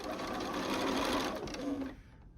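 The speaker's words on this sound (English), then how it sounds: "I'm going to sew off the end" A sewing machine stitching off the end of a fabric seam runs in a loud, continuous whirring burst close by, then stops abruptly near the end.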